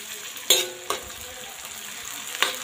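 Ginger, garlic and chili paste fries with onions and curry leaves in a pan, a steady soft sizzle broken by a few short stirring scrapes and clinks.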